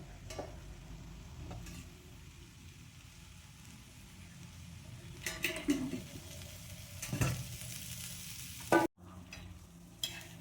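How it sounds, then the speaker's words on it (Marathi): Ginger fries in oil with a soft, steady sizzle, close but quiet, broken by a few louder clatters of utensils against the pan near the end. "आणि अद्रक टाकूया. यामध्ये आपण तेल टाकते."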